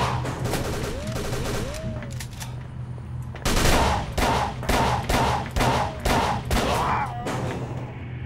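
Gunfire from a weapon in the Call of Cthulhu video game, a rapid series of loud, sharp shots in a regular rhythm over a steady game background hum.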